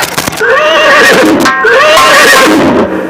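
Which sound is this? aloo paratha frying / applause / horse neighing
horse neighing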